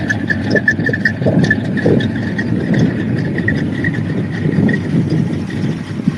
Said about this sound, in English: I can start this one up for you just to give you some sort of an idea.